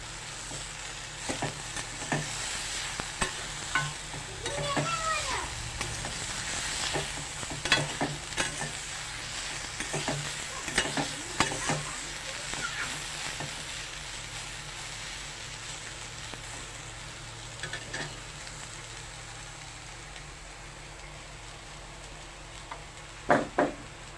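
Soybean chunks fry in a wok with a quiet, steady sizzle. Intermittent stirring scrapes and clatter run through it, with a couple of sharper knocks near the end.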